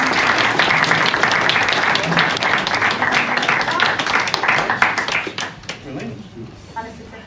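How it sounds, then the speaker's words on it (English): An audience at a grassroots football awards ceremony applauds the League of the Year winners with loud, sustained clapping from a crowd, easing off toward the end while voices carry underneath. "So can we have a big round of applause for you?"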